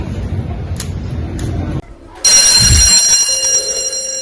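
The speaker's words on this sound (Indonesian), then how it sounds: "Bel pulang berbunyi." A school dismissal bell rings out loud and sustained, cutting in partway through after a stretch of muffled background chatter and noise.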